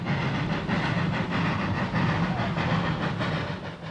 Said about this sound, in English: a spare engine going across Cusco from station to station